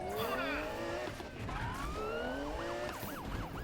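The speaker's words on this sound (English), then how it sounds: "We got a police car behind us." Police car siren wailing in the Need for Speed (2015) racing game, rising and falling sweeps over steady engine roar, loud and continuous during a chase with brief skidding.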